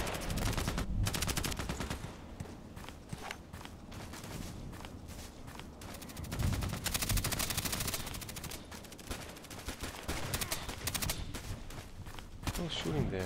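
Gunfire in a sniper video game, with rapid repeated shots and machine-gun-like bursts running through the clip, mixed with footstep-like thuds and some talk.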